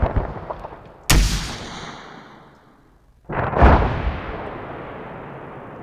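Two heavy booming shots from the video game ARMA, each a loud sudden blast followed by a long rolling echo that fades over a couple of seconds, with faint background noise between.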